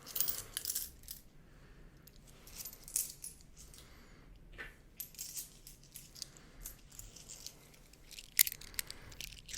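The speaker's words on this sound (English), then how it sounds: "I really like the sound of these coins just in a hand." Metal coins rattling and clinking in a hand, close and quiet, with irregular bursts of jingling separated by soft pauses and a few sharper clinks, no voices present.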